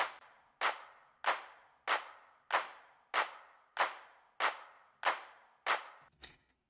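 Layered clap sample from an Ableton pop track plays alone: nine sharp, bright claps evenly spaced about every 0.6 seconds, each with a short decaying tail, ending in a quick stuttered burst.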